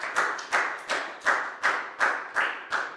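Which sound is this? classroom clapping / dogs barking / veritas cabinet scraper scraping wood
classroom clapping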